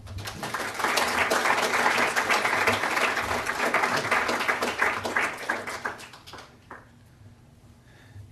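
Lecture audience applauding to welcome a speaker, a steady dense wash of many hands clapping for about six seconds before thinning out and fading to a few scattered claps.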